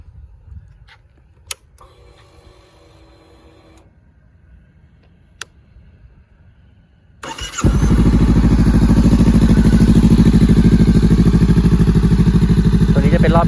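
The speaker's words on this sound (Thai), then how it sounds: "เดี๋ยวไปฟังเสียงท่อกันนะครับ" Honda CBR500R 2022 motorcycle with an aftermarket ExCALIBUR exhaust: after several seconds of faint ticks and clicks, the engine fires and settles into a loud, deep, rumbling idle close by.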